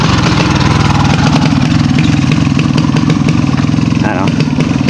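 A motorcycle engine runs close and loud for the whole stretch, a steady low throbbing drone with voices talking over it.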